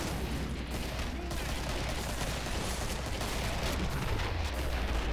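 Gunfire in the Killing Floor video game sounds as a dense, continuous clatter of shots under a low rumble, fairly quiet and steady throughout.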